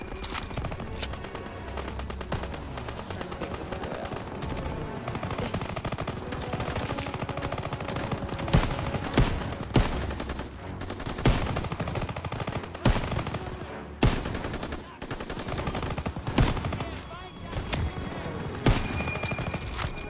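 Sustained machine gun fire and scattered gunshots from a World War II battle in Call of Duty WW2, loud and dense with repeated sharp bursts throughout.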